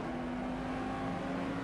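A race car at Road Atlanta during the 6 Hours endurance race, its engine a steady loud drone from onboard as it brakes late and rides over the curbs.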